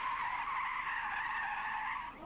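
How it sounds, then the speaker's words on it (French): A car braking hard from 120 km/h at a police driver-training demonstration in western Switzerland gives a loud, continuous tire screech lasting about two seconds. The screech stops abruptly. "démonstration de freinage d'une voiture lancée à 120 km/h"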